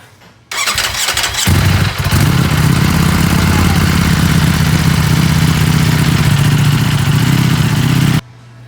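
A Ducati Panigale V4S is started: a brief starter whir catches into a loud, close engine that settles into a steady, rumbling idle for several seconds before cutting off abruptly.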